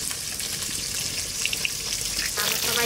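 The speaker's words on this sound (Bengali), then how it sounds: "পুঁই শাকটা এবার রান্না করবো, কড়াইতে দিয়ে দিচ্ছি সর্ষের তেল।" Mustard oil heating in a wok for cooking Malabar spinach gives a steady, close crackling sizzle throughout, with a few brighter hissing pops and a faint watery splash near the end; no one talks.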